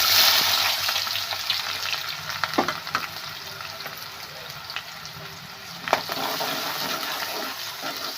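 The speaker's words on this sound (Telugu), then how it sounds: "ఉల్లిగడ్డలు అయితే వేగనిద్దామండి." Onions frying in a pan with cinnamon and clove paste, a steady close sizzle throughout with a few sharp spatula scrapes and stirring clacks.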